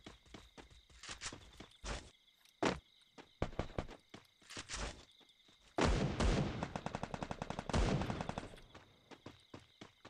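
Rapid bursts of gunfire in the mobile shooter Free Fire, with sharp single shots and dense automatic volleys that grow loud and fast midway, mixed with game footstep sounds and no talking.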